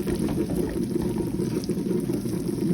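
Ridge gourd gravy with spices simmers in a pan, giving a steady, low bubbling and sizzling that runs evenly throughout at a moderate level.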